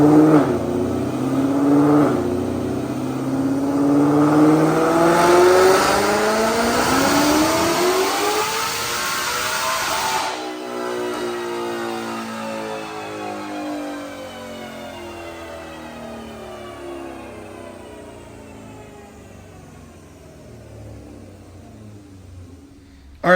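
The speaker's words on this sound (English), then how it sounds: "Check out this dyno pull." A supercharged 2020 Ford Shelby GT500 with long-tube headers on a dyno, engine climbing in a loud sustained rising wail for about ten seconds, then cutting off and winding down with a long fading whine.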